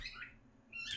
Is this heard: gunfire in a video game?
no